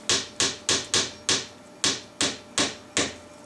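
A hammer drives a nail depth gauge into a gun stock's tenon inlet in nine sharp, evenly spaced strikes, each a crisp close metallic tap ringing briefly, with a slight pause midway.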